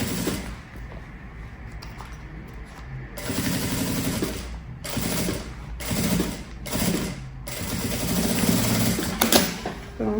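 A sewing machine stitches seams along each side of a luxury backpack's lining. It runs in repeated close bursts of rapid mechanical chatter, with brief pauses between runs and no talking.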